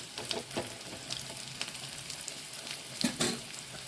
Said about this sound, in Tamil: வெங்காயம் கொஞ்சம் ப்ரௌன் ஆகட்டும்